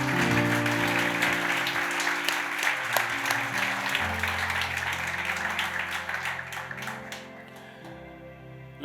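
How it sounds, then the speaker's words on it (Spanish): A church congregation applauds, with many hands clapping in a sustained wash that gradually thins out, heard over sustained music tones. "Denle un aplauso al Señor"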